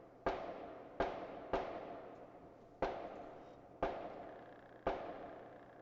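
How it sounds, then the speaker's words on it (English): Six sharp gunshot-like bangs ring out at uneven intervals, each with a long echoing decay, fairly distant with no talking. "Absolutely threatening gunshots."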